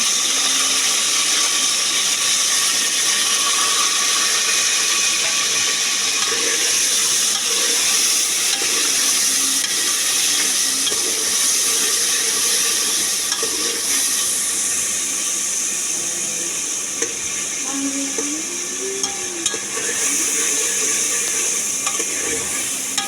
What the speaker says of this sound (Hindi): टमाटर डालेंगे अब हम